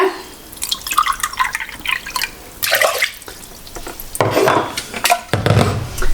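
Water is poured from a mug into a cooking pan for rice, close by, splashing and gurgling in several short bursts separated by brief pauses.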